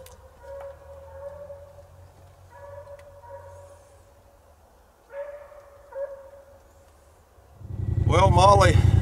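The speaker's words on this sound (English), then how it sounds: "You can probably hear her real good now." A coonhound bays faintly in the distance in short, spaced bursts during a nighttime raccoon hunt, then a sudden loud rush of nearby noise takes over near the end.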